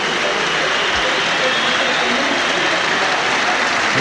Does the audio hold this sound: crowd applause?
yes